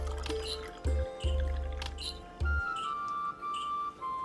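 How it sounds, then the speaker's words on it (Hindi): Water poured into a mixture containing honey and bapchi while cooking, heard as several close, heavy liquid pours and splashes in bursts, followed by softer trickling under a faint steady tone, with no talk. "और फाइनली इसमें पानी डालेंगे"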